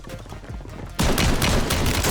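Shotgun fire in the video game Warzone bursts in at the midpoint as a loud, dense run of rapid blasts and booms, with continuous gameplay noise before it.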